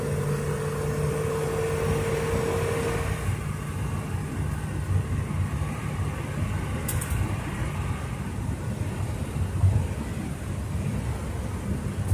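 Steady broadband rushing noise fills the cabin of a moving Ford Fairlane with an unsealed door, a constant windy roar with low road rumble beneath and a few faint knocks.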